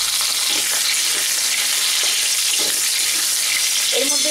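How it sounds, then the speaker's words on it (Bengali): Potatoes frying in hot oil, a loud, dense and continuous close sizzle with a few soft stirring knocks, no voices. "তেলটা আমাদের গরম হয়ে গেছে। এবার আমি আলুটা ভেজে নেব।"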